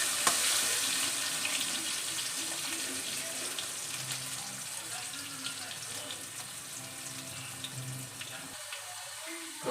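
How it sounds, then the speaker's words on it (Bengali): Potato pieces and onions fry in a pan in a home kitchen, a soft, steady sizzle with faint crackles, quiet and continuous, ending in a brief clunk. "আলু আর পেঁয়াজ একদম দুটো সমান সমানভাবে ভাজা হয়ে যাবে।"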